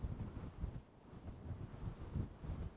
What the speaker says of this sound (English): Don't know if you can hear me with that wind.